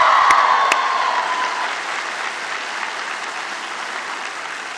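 Graduates at a university convocation applaud themselves in a large hall, a loud burst of clapping and cheering with a couple of sharp claps at the start, slowly easing into a steady, fading round.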